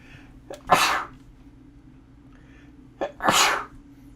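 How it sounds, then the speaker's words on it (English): Two sharp sneezes, each with a brief inhaled catch before it, spaced a few seconds apart and close to the listener, with quiet room tone between. "hold on, I'm gonna sneeze."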